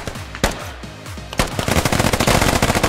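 Gunfire in the military shooter game Squad, with a few single loud shots followed by a rapid, sustained machine-gun burst that grows denser and louder toward the end.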